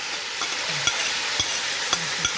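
Minced large onion being stirred into meat in a pot, soft scraping strokes repeating every half second or so over a steady background sizzle of frying.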